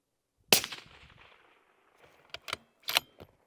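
Rifle shots at an outdoor shooting range: one sharp close report with a rolling echo, then a few quieter clicks and a second crack with a shorter tail, with no talking.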